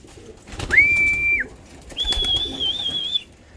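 Older pigeons call in a loft, with two drawn-out tonal notes rising out of soft background rustling and light thumps, heard close and clear.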